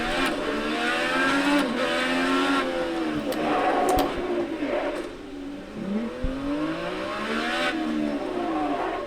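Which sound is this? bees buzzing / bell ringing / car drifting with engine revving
car drifting with engine revving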